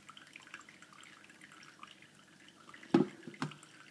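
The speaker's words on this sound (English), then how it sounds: "pour the water in" Hot water drips through a cloth sock coffee filter, a quiet run of small close drips followed by two louder drops near the end, with no talk.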